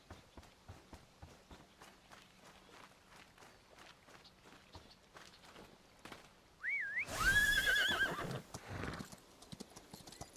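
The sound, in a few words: horse neighing and hooves in video game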